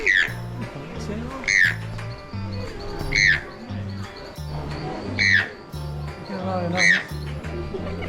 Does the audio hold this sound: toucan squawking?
yes